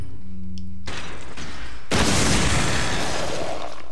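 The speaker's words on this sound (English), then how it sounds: "Alright, and flash grenade." Flash grenade going off in Resident Evil 4, a short buildup of game noise followed by a sudden loud burst and sustained crackling roar that fills the rest of the moment.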